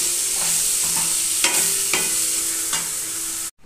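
Paneer stirred into a frying masala with cashews for paneer curry gives a bright, even sizzle with a few soft spoon scrapes, close by, cutting off abruptly at the end.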